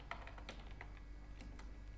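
Keys on a computer keyboard tap out git commands in a quiet room, with faint, sparse clicks in an uneven rhythm.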